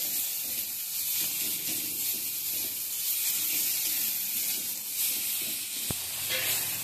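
Ground turmeric, cumin, red chili and coriander powders fry in a pan with a steady close sizzle and soft scraping from stirring, plus one brief sharp click near the end.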